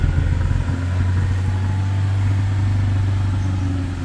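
A Daihatsu Xenia car engine runs loud and close with a steady, deep droning hum that holds nearly constant throughout, with little sign of the revs rising.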